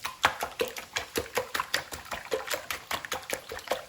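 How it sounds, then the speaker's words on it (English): A whisk beats eggs in a bowl for a breakfast casserole, making quick, regular clinking and wet slapping strokes, close and steady throughout with no talking. "You see the yolk is just breaking apart as I whisk these eggs"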